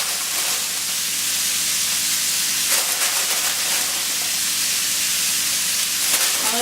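Bean sprouts sizzling in a hot Chinese stir fry pan, a steady loud hiss of steam and frying that runs continuously, with a faint scrape of stirring near the end.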